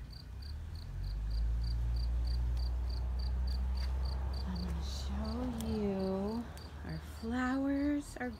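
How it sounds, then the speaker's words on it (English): A cricket in a backyard garden chirps in a steady, rapid pulsing pattern throughout, clear and fairly close, while a person talks over it and a low background rumble fills the scene. "And can you hear the cricket?"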